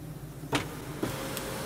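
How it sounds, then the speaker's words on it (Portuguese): The sunroof motor of a 2023 Hyundai Creta runs briefly, a short electric whir marked by a couple of sharp mechanical clicks as the panel closes inside the quiet cabin. "Fechar teto solar. Fechando teto solar."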